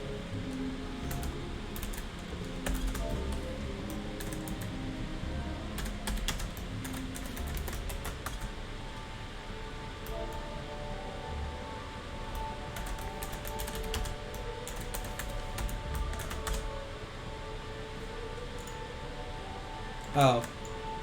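Typing on a computer keyboard while playing FFXIV, scattered bursts of clicks over steady game music and ambience across about twenty seconds, with a voice occasionally present.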